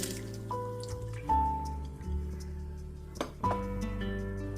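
Water poured onto washed mung dal in a cooking pot, soft close liquid dribbles and splashes with a few drip-like plops, faint and intermittent over a low steady hum.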